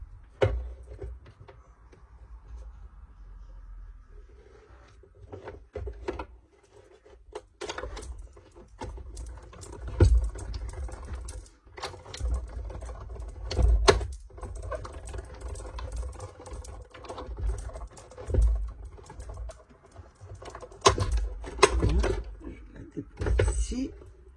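Domestic sewing machine stitching fabric in bursts, with soft mechanical patter and clicks, stop-start handling noises and pauses, while someone talks quietly in French throughout.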